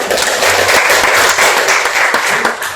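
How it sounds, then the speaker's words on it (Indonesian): A class of students claps together in a loud, dense burst of applause that stays steady throughout the short stretch, close and filling the room. "Tepuk tangan terlebih dahulu."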